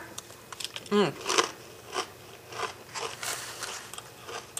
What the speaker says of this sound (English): I found these pita chips. They're just like little crackers, but they are pita, and you just dip in there,